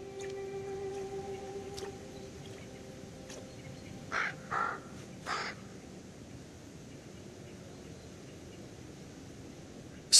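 A raven in the Carpathian wilderness calls a few times from a distance, with two or three hoarse caws in the middle of a long, quiet, breezy stretch of outdoor ambience.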